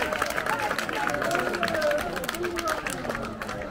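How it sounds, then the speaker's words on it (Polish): An outdoor festival audience at a parish fair in Gdańsk Orunia claps for the dancers, a loose patter of applause mixed with crowd chatter and voices talking over it. "Duże brawa dla chłopaków za to, że tak wspaniale tańczyli z paniami"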